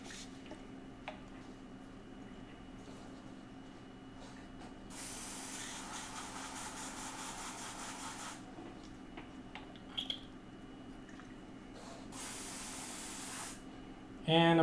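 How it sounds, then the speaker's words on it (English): An airbrush sprays water and then cleaner through its nozzle while being cleaned out after painting Warcry terrain, giving two loud, steady hissing bursts of a few seconds each over a low background hum. "I'm going to use some water to just give it a quick rinse and spray it out"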